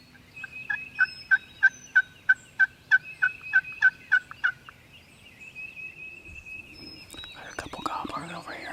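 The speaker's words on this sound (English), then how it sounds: "Gobbler over here, just on the other side of the ridge." A wild turkey gobbles in a rapid run of about a dozen strong pulses from beyond a ridge, moderately distant in open country, followed by rustling and faint other birdsong.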